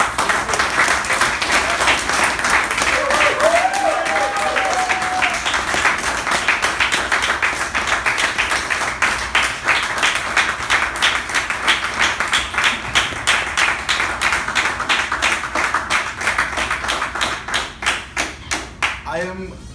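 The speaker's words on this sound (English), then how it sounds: "please, with a huge round of applause, welcome Toastmaster Balaji on the stage" Sustained applause from an audience welcoming a Toastmaster onto the stage at a club installation ceremony, dense steady clapping that thins into scattered claps near the end, with a brief voice heard over it early on.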